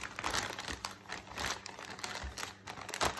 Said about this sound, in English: So I put it in my Ziploc bag